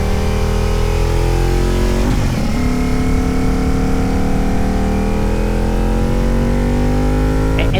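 Motorcycle engine droning steadily while riding, with rising and falling revs and a continuous close-up mechanical hum throughout, no talk.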